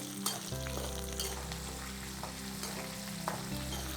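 About twenty shallots sauté in a pan for a Chettinad green chilli side dish. The sizzle is steady and close, with a low hum underneath and occasional stirring clicks, and no one speaks.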